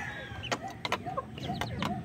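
Basilan x Aseel hens with their chicks cluck softly while high, thin peeps repeat in short bursts, close by over a steady low background hum.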